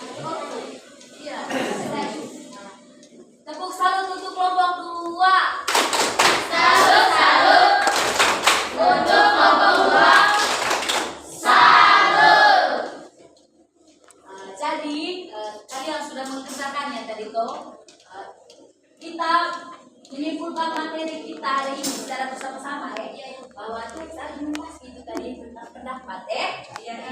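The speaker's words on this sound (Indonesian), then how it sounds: "Tepuk salut untuk kelompok 2" A classroom of primary school children clapping a rhythmic salute clap for a group, bursts of hand claps mixed with chanting voices and a teacher talking.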